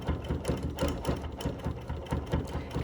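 A home sewing machine runs steadily, stitching over the existing outline of an embroidered heart on a quilt sampler block, its needle thumping in a fast, even rhythm close up, with no talking.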